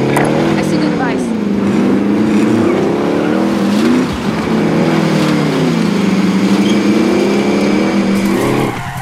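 A vehicle engine drones loudly and continuously in Call of Duty Warzone, rising and falling in pitch as it accelerates and shifts, with brief tire noise.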